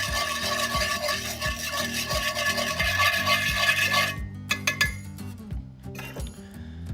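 Buttermilk mixture stirred in a bowl for chicken fried steak batter, a fast repetitive clinking of utensil against the bowl that continues steadily, then breaks into a few scattered taps and knocks.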